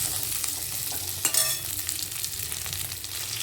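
Tomatoes fry in a pan of oil with cumin and fried paneer for a Bengali-style paneer curry, a close continuous sizzle with brief stirring scrapes and a sharp spike near the middle.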